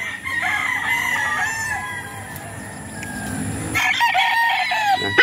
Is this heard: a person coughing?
no